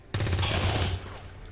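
A gunshot burst fires in XCOM 2: War of the Chosen, a sharp attack followed by a loud, sustained rattling crackle lasting about a second before tapering into a fading tail.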